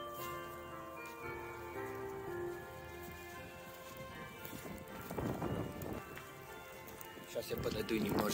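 A horse's hooves clop on snow-covered ground outdoors after a fresh snowfall, in soft uneven steps that grow louder and closer toward the end, over a steady background hum.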